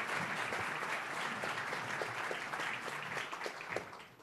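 Steady applause from a large audience welcoming John P. McConnell to a leadership legacy event, loud and continuous with scattered sharper claps throughout.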